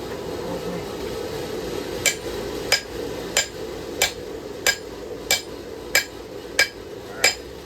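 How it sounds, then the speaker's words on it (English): Hand hammer tapping steel while forging a knife, nine or ten sharp ringing blows at a steady, even rhythm after a brief quiet start, close and clear. "Bring your elbow up and hammer more toward yourself."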